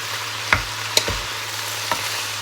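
Pork belly and mushrooms stir-fry in a pan with a steady sizzle, broken by a few sharp scraping strokes of the utensil, close and alone without talk.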